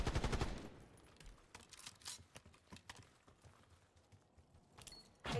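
Video game gunfire crackles in dense bursts, with heavy volleys at the start and end and scattered quieter shots between.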